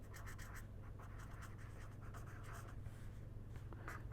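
Chalk or marker scratching across a board during an energy economics lecture, a run of short strokes in steady rhythm over a constant low room hum, with no talking.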